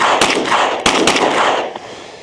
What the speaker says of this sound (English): it just shoots very soft and the recoil is very negligible